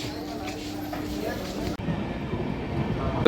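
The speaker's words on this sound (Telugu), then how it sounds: "మనం ఎక్కాల్సింది నెక్స్ట్ ట్రైన్, ఈ ట్రైన్ కాదు." A train rumbles steadily at a station, a low continuous roar with people talking nearby underneath.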